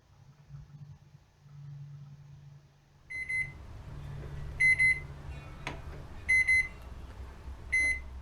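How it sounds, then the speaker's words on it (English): An older Hamilton Beach microwave oven in a travel trailer hums at a low, steady drone, then sounds a series of four short electronic beeps at regular intervals. "let's see if the Hamilton Beach microwave works."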